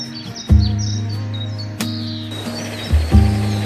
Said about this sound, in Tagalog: At maririnig mo yung tuloy-tuloy na agos ng tubig at ang huni ng mga ibon.